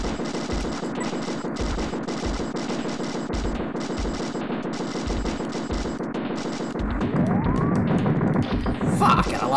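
Rapid, steady gunfire in the Super Smash TV arcade game on hard difficulty, with evenly spaced shots firing nonstop across the whole stretch and other game effects layered on top near the end.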